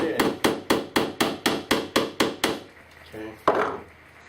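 Ten steady, evenly spaced hammer blows drive a nail into wood, close and loud, followed by a few softer knocks and a sharp final tap.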